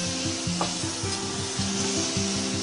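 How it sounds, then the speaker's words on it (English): Kinpira vegetables simmer in a pan with sugar, giving a steady close sizzle and bubbling along with rhythmic scraping and stirring strokes. "Let that simmer"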